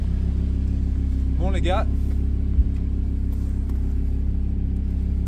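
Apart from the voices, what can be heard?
Audi R8 engine revving with sport exhaust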